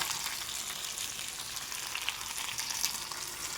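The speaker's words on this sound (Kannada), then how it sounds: "ಈ ಕಡೆ ಸಾಂಬಾರಿಗೆ ಒಗ್ಗರಣೆ ಮಾಡ್ಕೊತಾ ಇದ್ದೀನಿ" Tempering for a sambar with potato and brinjal sizzles steadily in hot oil, a soft, continuous hissing crackle with a few faint pops and no talking.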